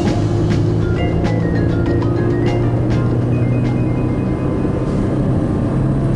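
A 1997 Mercedes-Benz C200 Elegance W202 engine drones steadily and loudly from inside the cabin after a downshift, with a constant low hum and tonal whine and light clicks and rattles over it.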